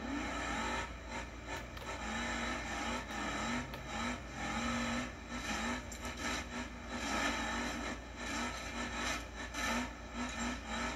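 A car engine drives in the BeamNG video game, a steady droning hum with a pulsing, rasping texture that rises and falls slightly, running throughout with no talk.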